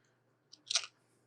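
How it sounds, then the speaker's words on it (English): A person chews food close to a microphone, one short crunchy bite preceded by a faint click, in an otherwise quiet room. "Whatever chewing you do, I promise you I'll take it out."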